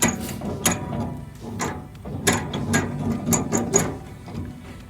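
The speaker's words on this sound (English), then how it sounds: "So I just need something to stop it rattling while I'm not tipping" A worn tipper bed on an Iveco truck rattles in loose, irregular metallic bursts, clattering clunks and knocks from the tailgate and fold-down sides, moderately loud and close with no voices.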